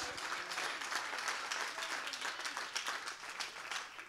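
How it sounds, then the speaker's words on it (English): A church congregation claps and applauds during a sermon, a dense, steady patter of many hands at moderate loudness throughout. "Come on and clap for that change."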